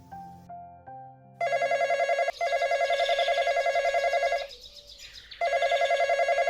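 A telephone rings for an incoming call with loud, bright repeated trilling bursts separated by a short pause, following a quieter melodic tone at the start; no one talks.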